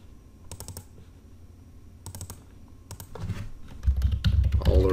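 Keys clatter on a computer keyboard in short bursts as a password is typed, quiet and close, with a low rumble of handling noise building toward the end.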